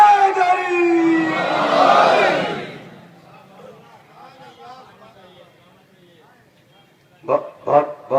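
A large crowd at a Muharram religious gathering in Nishtar Park roars a chanted slogan in unison, loud and echoing at first, then fading into murmurs before a few short shouted bursts at the end.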